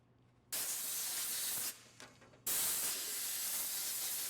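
Spray bursts cleaning oil and debris off the tilt gears of a SawStop contractor table saw, two long loud hissing blasts separated by a short sputtering pause.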